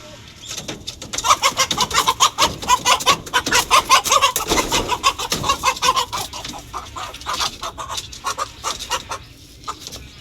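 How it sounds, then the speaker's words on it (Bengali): A flock of chickens clucks and calls close by in rapid, overlapping bursts that rise and fall in loudness, continuing throughout. "মুরগিরা কিন্তু অনেক বড় হয়েছে"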